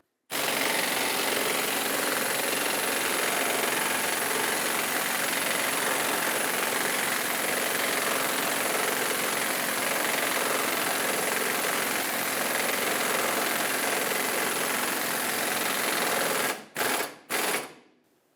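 A new ball joint is pressed into the steering knuckle of a 2008-2012 Honda Accord. A continuous, even mechanical drone runs through the clip, then breaks into a few short bursts before stopping.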